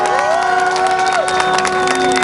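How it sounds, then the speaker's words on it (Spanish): Large outdoor crowd at a rally cheering and shouting together, a dense continuous roar with high voices rising above it, loud and steady throughout. "Un aplauso para ustedes mismos."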